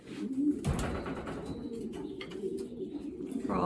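Basketed racing pigeons coo softly in a low steady murmur close by, with a sharp handling knock near the start and light rustling throughout.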